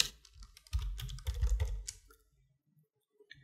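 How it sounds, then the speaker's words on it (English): Computer keyboard typing in a rapid burst of clustered keystrokes, close and fairly loud, stopping abruptly with a couple of faint clicks near the end. "Select the text and type anything,"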